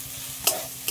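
Banana flower, sweetened with sugar, stir-fried in a pan, a short close sizzle with two quick scraping stirs.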